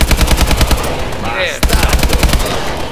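An LZ-52 Limbo gun in Call of Duty Exo Zombies fires rapid, loud, close automatic bursts with a brief pause and an electronic whine in the middle, then resumes firing.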